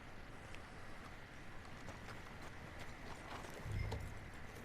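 A horse's hooves clip-clop in a steady walking rhythm across Lemoyne country in Red Dead Redemption 2, faint and even, with a slightly heavier thud near the end and no voices.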